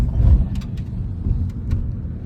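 Car driving along a road through government woods near a creek, a moderate low rumble from inside the cabin with a few brief rattles or clicks on top.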